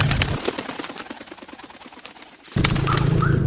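Pigeons cooing at an outdoor animal market in Angeles City, Pampanga, soft repeated coos amid busy background clatter, with a louder burst of crowd noise near the end.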